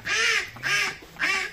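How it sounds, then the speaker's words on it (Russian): A calm domestic duck at a country dacha gives three loud, evenly spaced quacks close by, each a short nasal burst with brief pauses between, and no talking. "Самый спокойный утка."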